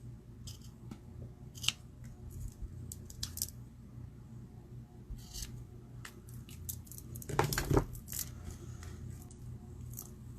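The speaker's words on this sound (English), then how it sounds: "we're going to take a piece of ribbon and I'm going to do the end, and I'm just going to cut like 3 pieces" Scissors snipping ribbon into pieces for a papercraft project, a series of short crisp cuts with a louder cluster of snips near the end, close over low room hum.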